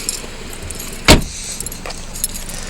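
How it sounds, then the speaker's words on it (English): A single sharp thunk as the trunk of a 2014 BMW 328i xDrive Gran Turismo hatchback pops open, close and brief, with a faint jingle of keys before and after and no talking. "So I'll pop the trunk."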